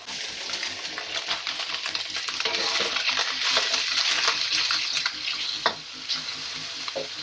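Mushrooms hit a hot pan of Hong Kong-style chicken noodles and fry with a loud, continuous sizzle, with scattered clinks and scraping from stirring throughout.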